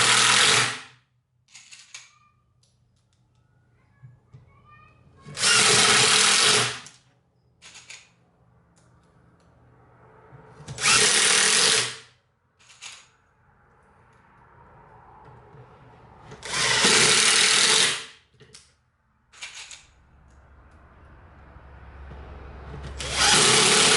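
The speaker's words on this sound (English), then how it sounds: "we'll go ahead and install the other screws" A power drill drives screws into a base drawer cabinet during assembly, whirring in several loud, separate bursts of a few seconds each with quiet handling noise between them.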